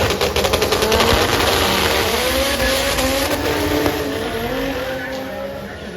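Honda Del Sol and a small Civic coupe launching side by side at a drag strip, loud sustained engine roar with rising revs and tire noise, crowd and announcer voices mixed underneath, fading slightly toward the end.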